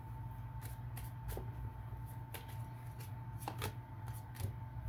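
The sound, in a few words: tarot cards being shuffled and drawn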